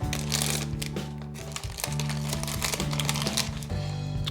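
Plastic wrappers of Sonic Prime series 2 mystery figure packets are torn open and handled, giving close, sustained crinkling over a steady low hum.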